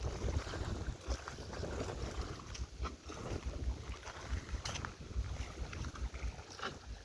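Wind buffets the microphone over a steady wash of floodwater, a continuous rough rumble with no voices.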